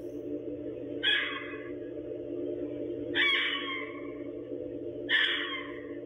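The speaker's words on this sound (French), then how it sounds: "Oh, ça, c'est un oiseau, ça." A large bird gives three harsh, drawn-out calls spaced about two seconds apart, captured on surveillance footage over a steady electrical hum, moderately loud and with no one talking.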